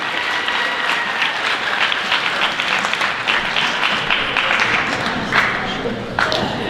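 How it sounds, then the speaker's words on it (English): An audience at a high school student recognition assembly claps in sustained, dense applause that holds evenly at full volume, with a few louder claps near the end. "I want to give her a huge round of applause"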